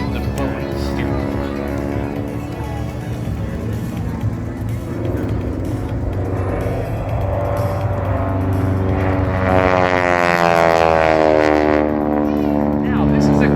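Carbureted piston engine of a ton-and-a-half aerobatic airplane performing at a crop duster airshow, a loud continuous propeller drone that rises and shifts in pitch as the aircraft maneuvers, with some speech over it.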